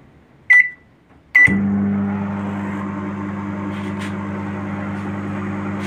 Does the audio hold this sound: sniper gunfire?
no